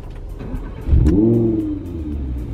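An Audi R8 V10 Spyder's 5.2-litre V10 engine barks into a sharp rev, then settles back to a throaty, rumbling idle close by.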